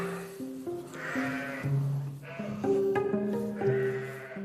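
Sheep bleating repeatedly during lambing at a sheep farm, with several loud, wavering calls close by, one after another, and little else in the background.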